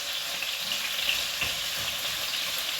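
Pork frying in its own rendered fat in a pan gives off a steady, close hiss and sizzle with faint crackles throughout, and no one talks.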